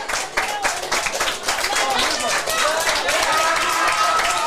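A football crowd at a 2019 men's summer cup match claps and applauds a substitute coming on, a dense, steady patter of many hands from the stands, fairly loud and continuous throughout.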